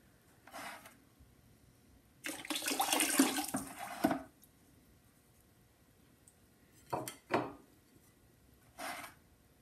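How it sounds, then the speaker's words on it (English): Liquid glaze is poured over a ceramic fossil plate with a wax-resisted ammonite, making a close, splashing pour for about two seconds, then a few shorter trickles and splashes. "So that was obviously pouring."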